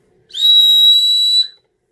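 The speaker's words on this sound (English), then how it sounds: "It's a Gerber Bear Grylls. It has a little warning whistle" A Gerber Bear Grylls knife's built-in warning whistle gives one loud, shrill, steady blast lasting just over a second, close and clear with nothing else around it.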